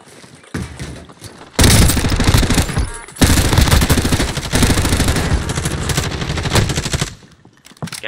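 Gunfire in Call of Duty Warzone: dense, loud bursts of automatic weapon fire and booming shots rattle almost continuously, with a short lull midway and the noise fading near the end.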